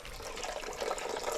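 Water is poured to replace dirty water in a container at a small chick-raising farm, a close, continuous splashing and gurgling stream with no talk.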